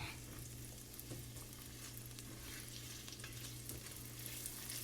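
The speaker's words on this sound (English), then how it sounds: "we are going to take our sun-dried tomatoes and stir them in" Sun-dried tomatoes being stirred through a frying pan for creamy Tuscan gnocchi, giving a faint, even sizzle with soft crackles and a low steady hum underneath, no speech.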